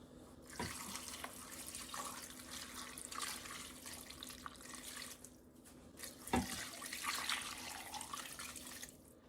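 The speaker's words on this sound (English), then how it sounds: "I just add enough water so that all of the ingredients are covered." Water runs from a tap in a soft, steady stream into a slow cooker filled with chicken or turkey bones for broth. The sound is faint and continuous, like a sink filling.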